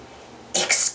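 A cricket character in a children's read-aloud storybook coughs, a short burst of two quick, close, raspy coughs after a moment of quiet, likely voiced by the narrator.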